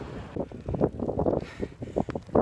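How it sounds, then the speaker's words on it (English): Gusty wind buffets the microphone outdoors in rain near Carlisle, in loud irregular low bursts that rise and fall over a couple of seconds. "The heavens have opened again. The wind is on."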